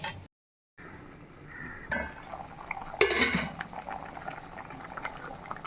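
A fish curry bubbles and simmers in a pot with soft scraping and clinking as it is stirred, a steady low cooking hiss throughout.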